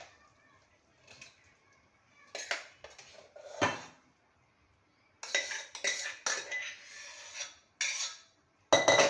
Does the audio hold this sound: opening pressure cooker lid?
yes